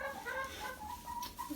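A hen sitting on eggs clucks softly in short, murmuring calls, close by and fairly quiet, with no talking.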